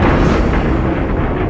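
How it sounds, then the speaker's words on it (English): Controlled demolition of a building by a series of planned explosions, a loud, dense, rumbling roar of blasts and collapse that fills the whole stretch without pause. "a set of carefully planned explosions that cause the building to fall"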